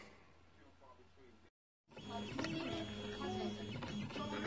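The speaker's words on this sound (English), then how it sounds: "So I've got the CNC router running." An Eleksmaker CNC laser engraver burning wood runs with a whirring, buzzing motor hum that starts after a brief silence and keeps going steadily and close, with shifting tones as the head moves.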